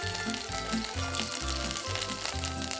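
Zucchini slices sizzle and fry in hot olive oil in a pan, a steady close crackle with no one talking.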